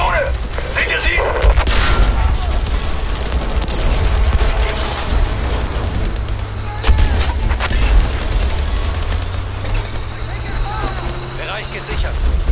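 Cannon and gunfire in a war video game, with heavy booms and bursts of shots over continuous rumbling battle noise, while voices shout commands throughout.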